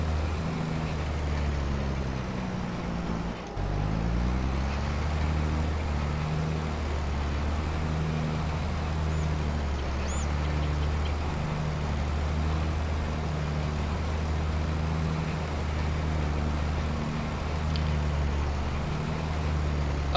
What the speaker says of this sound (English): drive the tractor to the left and then park him on the side